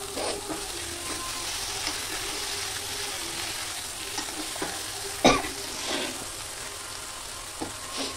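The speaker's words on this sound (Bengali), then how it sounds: "এটাকে হালকা একটু নেড়ে চেড়ে নিয়ে এবার জল ঢেলে দেবো" Vegetables are stirred in a pan with fried spices, giving a steady hiss of sizzling oil with intermittent scraping strokes and one sharper knock, close and alone without talk.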